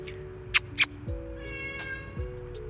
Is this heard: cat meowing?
yes